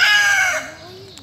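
A rooster crows once, loud and close, the call trailing off into a fading tail.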